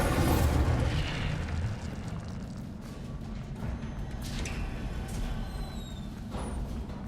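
An Incendio fire spell goes off in Hogwarts Legacy on PS5, a loud rumbling whoosh of flame that settles into a steady roaring burn, with a few faint magical chimes near the end.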